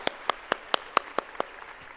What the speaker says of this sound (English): So I request all the parents to give them a good round of applause.